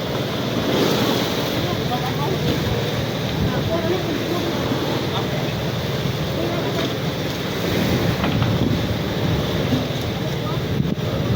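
Strong, steady monsoon wind roaring at sea with broadband rushing and surf-like wash, constant throughout, with a faint voice briefly in the background.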